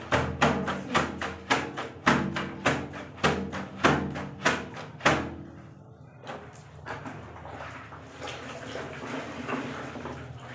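Wet clothes being washed in a bathroom slap down in a steady rhythm of about ten heavy, close splashes, then give way to softer sloshing and trickling water.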